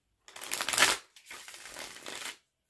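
A deck of tarot cards is shuffled in two brisk riffling bursts, each about a second long and separated by a short pause, close and fairly loud, with no talking.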